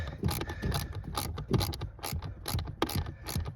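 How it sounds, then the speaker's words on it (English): A screw is tightened on a Renault Megane MK3 during a pollen filter fix, giving a rapid run of ratchet clicks in short bursts, close and crisp with no talk. "We're just gonna do our screw up just so it's nice and tight."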